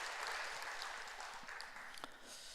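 A church congregation applauds after a shared meal, giving a dense, even patter of hand claps that sounds soft and somewhat distant, with no voices over it.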